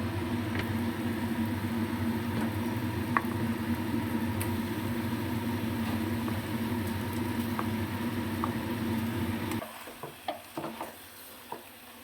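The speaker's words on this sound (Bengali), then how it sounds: "এবার আমি যে আধা ঘন্টা আগে চিকেনটা ম্যারিনেট করে রেখেছিলাম, সেটাই আমি একবার দিয়ে দেব।" Marinated chicken stirred into fried spice paste in a pan, with a steady low sizzle and scraping for most of the time, then quieter scattered taps and clinks as the stirring stops.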